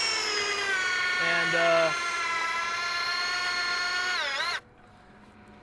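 A power driver whines steadily as it sinks 10-inch screws through the end of a log tenon during log cabin construction, the pitch sagging under load, then cutting off abruptly near the end; a single spoken word is heard.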